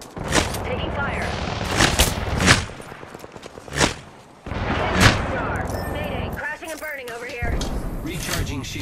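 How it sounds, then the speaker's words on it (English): Gunfire in the video game Apex Legends comes as repeated loud bursts of shots and impacts, with a person talking over the firefight between volleys. "The enemies are shooting at me."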